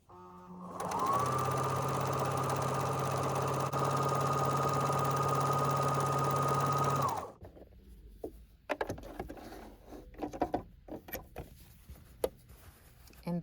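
A Kenmore sewing machine stitching a scallop pattern, running in one steady, loud mechanical whir for about six seconds before stopping, followed by faint handling clatter.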